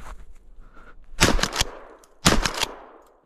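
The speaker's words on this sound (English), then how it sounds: "I make it run and then I shoot it" Two sharp gunshots crack out about a second apart while rabbit hunting, each a loud close report with a quick echoing tail, after quiet rustling outdoors.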